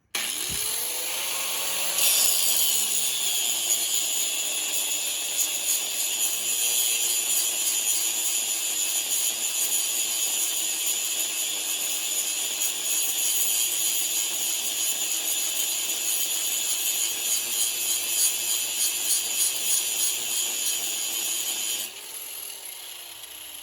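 A lawn mower blade being sharpened on a power grinder, a steady loud whine with a harsh grinding rasp that runs unbroken for about twenty seconds before winding down at the end, with no talking.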